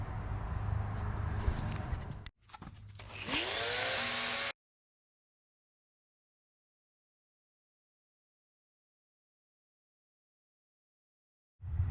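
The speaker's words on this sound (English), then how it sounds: "maybe we will use the appropriate kind of Dremel tool" Dremel rotary tool cutting a rusted downpipe on a BMW E82 135i, a loud high whine that rises and falls over a few seconds, then cuts off into long silence before a brief restart at the end.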